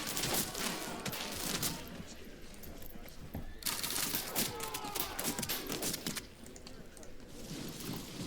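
Volley of missile fire in the Field of Glory 2 battle game: a dense, continuous burst of crackling shots and clatter over about eight seconds, loud throughout with surging peaks and a brief dip before swelling again.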